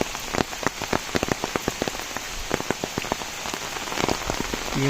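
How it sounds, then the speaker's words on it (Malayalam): Rain patters on a tent at a forest camp, with sharp individual drops striking the fabric close by over a steady hiss of rainfall. "ഈ മഴ ഒരു പ്രശ്നമായിട്ടിരിക്കുകയാണ്."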